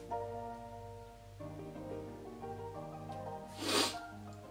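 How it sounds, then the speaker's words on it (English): A single person's sneeze bursts out close and loud near the end, a brief sharp blast over a steady musical background. "I'm gonna sneeze."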